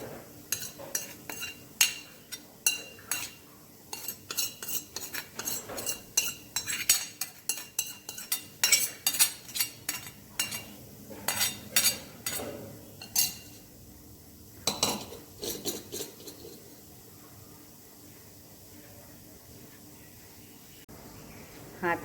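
A spoon stirs methi masala into flour dough in a bowl, giving rapid metallic clinks and scrapes in bursts that thin out toward the end.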